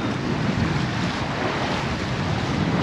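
Choppy sea waves slap and rush against a sailing boat on open water, with steady wind noise buffeting the microphone throughout.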